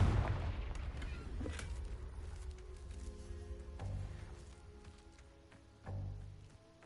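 A Confringo fire spell blasts in Hogwarts Legacy, a booming burst that fades into a rumbling tail, followed by further softer impacts and a second thump near the end.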